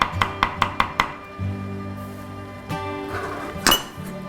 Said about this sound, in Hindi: अभी अदरक को मोटा मोटा काटना है